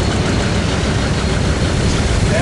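A 1957 Ferguson tractor engine runs steadily at close range, a dense low rumble with a constant idling throb at an outdoor steam and gas show, with no voices.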